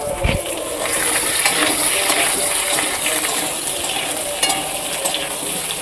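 Potatoes hit hot oil already tempered with bay leaf, dried red chillies and whole five-spice for dudh shukto, giving a loud, steady sizzle with a few stirring clinks close by.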